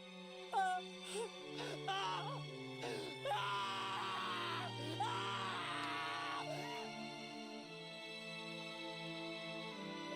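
A man screams in anguish, drawn-out wailing and groaning cries that rise and break over several seconds, loud and close over a low sustained musical drone, in the visual novel Steins;Gate: Linear Bounded Phenogram.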